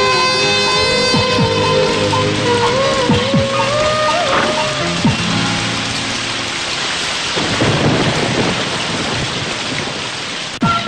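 Heavy rain pouring steadily with rolling thunder at night, a dense continuous hiss under scattered music tones and faint voices.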